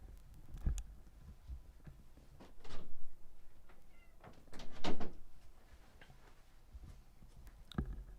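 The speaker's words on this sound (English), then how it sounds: "let me let my cat out" A house cat meows a few times at close range, mixed with a door being opened and some knocks and shuffling in a quiet indoor room, with no talk.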